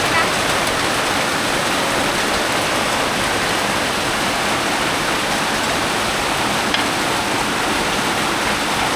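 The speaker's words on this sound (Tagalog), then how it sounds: "Sobrang lakas ng ulan." Very heavy rain pours down in a dense, unbroken roar, loud and close throughout with no letup.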